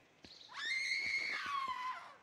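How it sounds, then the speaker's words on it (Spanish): A woman's scream in the video game Pentiment rises sharply and holds for over a second before trailing off, loud and alone with no talk over it. "Creo que los gritos vienen de la sala capitular."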